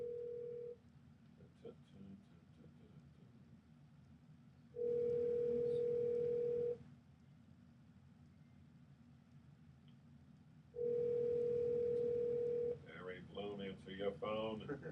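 A telephone dial tone sounds in two steady stretches of about two seconds each, between quieter line noise, while people talk faintly on the call.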